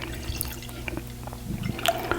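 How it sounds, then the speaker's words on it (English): A dark blueberry maple pancake wheat beer from Ellicottville Brewing Company pours from a can into a Guinness glass, a quiet close liquid pour with light drips and splashes. "So let's do the pour."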